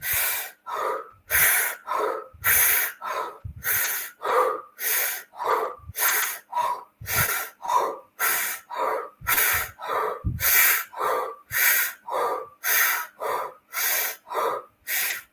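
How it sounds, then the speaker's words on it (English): Deep breathing exercise: loud, close, strongly rhythmic breaths, about two dozen forceful inhales and exhales in steady succession with no talking. "So just breathe with me."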